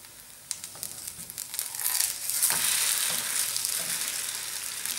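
A chicken and vegetable crepe sizzles and crackles in a hot pan, the frying noise swelling midway into a dense, steady hiss with scattered pops and scraping clicks.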